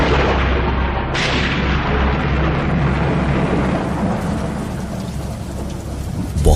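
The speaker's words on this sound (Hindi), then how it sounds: "बहुत ही तेज बारिश होने लगी और बादल गरजने लगे।" Heavy, steady rain roars close by while deep thunder rumbles underneath, with a sharp crack near the start and a swell of rumble toward the end.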